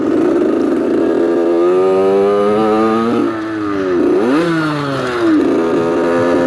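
A moped engine fitted with an 80cc aluminium kit revs hard and loud right up close, its buzzing tone climbing and dipping through several throttle changes without any pause.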